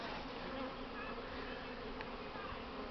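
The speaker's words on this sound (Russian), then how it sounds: "Крупные такие пчелки желтые. Полетела." Large yellow Buckfast honeybees buzz steadily in flight around a hive during a strong spring cleansing flight, a dense, continuous drone of many wings close by with no voices.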